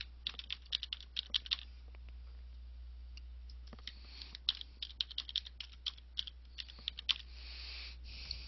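Someone types a username and password on a computer keyboard, with irregular bursts of quick clicky keystrokes over a quiet background hum, fairly close and crisp.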